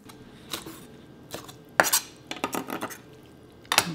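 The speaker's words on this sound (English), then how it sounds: "let's chop it up," A knife chops squid for fish cakes on a board, giving a handful of sharp, close chopping knocks spaced irregularly, with brief pauses between strikes.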